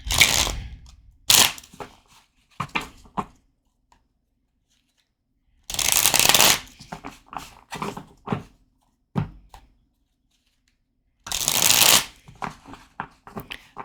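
A future prediction card deck is shuffled in three quick riffling bursts separated by pauses, with scattered card taps and handling clicks in between, close and clear with no talking.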